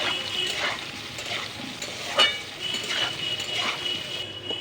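Potato pieces with salt and turmeric fry in hot oil in a pan, giving a steady close sizzle with soft stirring scrapes and a few light clinks of a utensil.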